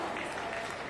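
Sellout crowd applauding at a para table tennis match in an arena, a brief steady wash of clapping, moderately distant, with a commentator talking over it.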